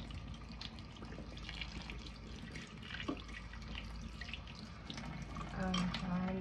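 A tap runs slowly while a chunk of live foraged moss is rinsed for a terrarium, giving a steady close trickle of water with small splashes and drips throughout.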